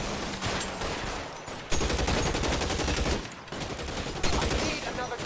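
Rapid gunfire from a shootout in the video game L.A. Noire, sustained bursts with a few sharper, louder blasts over a dense, steady barrage.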